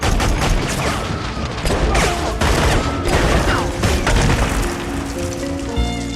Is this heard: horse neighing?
no